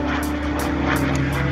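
A propeller-driven airplane flying past at an airshow at Melun Villaroche airfield, a loud, steady droning engine hum with rhythmic pulsing, close and continuous with no talk.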